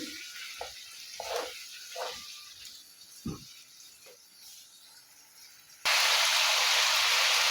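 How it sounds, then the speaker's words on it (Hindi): Steady sizzling of mutton, spices and yogurt frying in a pot, with occasional stirring knocks, then a sudden louder rush of hissing toward the end. "इसको मज़ीद हम भूनेंगे।"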